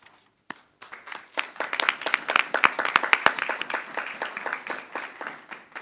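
Clapping from the audience at a city council meeting, starting with a few scattered claps after a brief silence and quickly building into lively, moderately loud applause that stays steady to the end.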